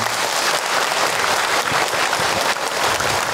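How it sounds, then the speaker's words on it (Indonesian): Audience applause fills a religious sermon hall, a dense, steady wash of many hands clapping at close range and even volume with no voices over it. "Tepuk tangan untuk kita semua."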